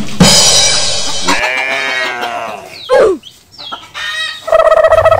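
Chickens clucking and squawking at a market in the Sakura School Simulator game, a busy run of sharp calls and cackles that rise and fall, with a brief pause and a burst of bright cries at the end.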